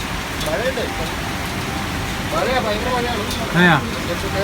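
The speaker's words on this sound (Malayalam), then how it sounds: "മഴ" Steady rain hisses outdoors near the Odakkolly natural cave at Palavayal in Kasaragod, a constant wash of noise under several people talking.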